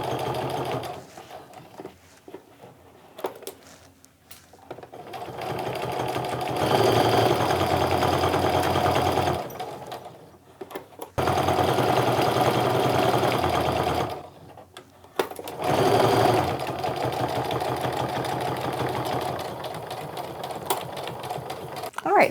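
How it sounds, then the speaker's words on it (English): A sewing machine stitches a canvas and cork wristlet in long loud runs of rapid mechanical whirring, broken by short pauses with quieter handling sounds between bursts. "sewing the 1/4 inch away from everything."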